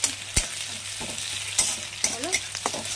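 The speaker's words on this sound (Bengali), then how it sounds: "এই যে ভাজতেছি, হালকা হালকা পেঁয়াজটা লাল হোক" Onions frying lightly in a pan, soft sizzling beneath a series of quick scraping and clattering stirs that come in short bursts, close by, with no talking.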